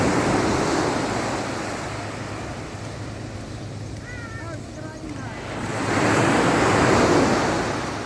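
Sea waves wash onto a provincial beach with a continuous surging roar that swells louder toward the end, mixed with wind buffeting the microphone.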